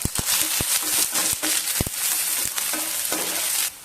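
Sliced onion and green chillies sautéing in oil, a constant sizzle broken by repeated sharp scrapes and taps of a spoon stirring in the pan, close and loud.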